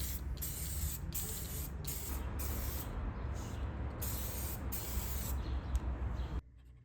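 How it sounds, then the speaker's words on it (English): Clear lacquer sprayed in repeated bursts onto a burnt wood box, each close, steady hiss broken by short pauses before cutting off near the end. "So I sealed it with a few coats of clear lacquer."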